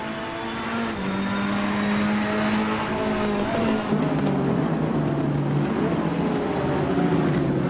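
Several race cars at Donington Park roar away together from the start, engines droning loud and steady with shifting pitch as they accelerate, a dense continuous wall of engine noise with no talk.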